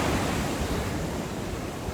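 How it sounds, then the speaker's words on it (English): Ocean waves on a windy Hawaiian beach roar steadily, a dense, continuous wash of surf and wind gusts up close with no voices. "Waves."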